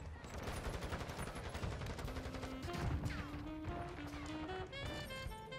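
Fully automatic MX Guardian shotgun in Call of Duty MW2 fires a dense, continuous volley of loud blasts, with game music and sound effects layered over the gunfire throughout.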